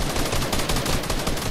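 Rapid semi-automatic sniper rifle shots in a video game crack out in a dense, loud burst of repeated reports, close up with no pauses.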